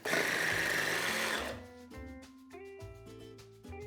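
An electric slicer cuts potatoes into even slices, first with a loud whirring whine, then a lower motor hum that pulses in short bursts, close by.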